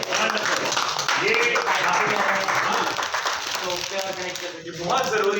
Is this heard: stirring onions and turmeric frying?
no